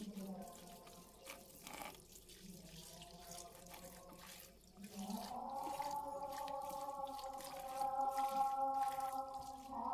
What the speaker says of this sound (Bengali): চিকেনটা কিন্তু আমি ধুয়ে দিচ্ছি